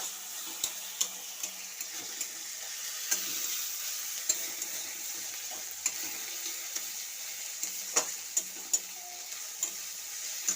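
Cauliflower fries in a pan with onion, garlic, bay leaf and dried red chilli, a steady hiss broken by frequent sharp clinks and scrapes of a stirring spoon.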